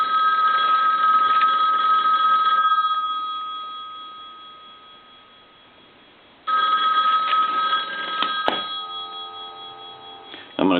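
A payphone rings loudly and close by with a steady electronic bell tone, sounding in two long bursts separated by a few seconds of fading quiet, then starting again.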